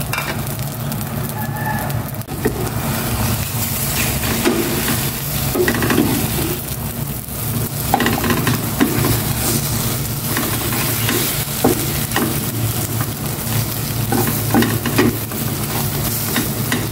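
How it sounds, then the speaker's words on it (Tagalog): Cooking oil sizzles steadily in a frying pan for a Filipino home meal, a constant broadband hiss with occasional clinks and stirring scrapes, plus a rooster crowing faintly in the background. "Ilagay ko na itong oil."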